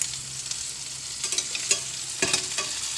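Fish pieces fry in a wok alongside tofu as they are flipped, giving a steady close sizzle with brief scraping and clattering bursts of the turner against the pan and no voices.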